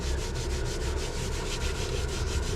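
Microfiber sponge rubbing and smoothing sanded Polyblend Plus grout across tile, a steady close scraping swish with rhythmic back-and-forth strokes, continuous and alone without talk.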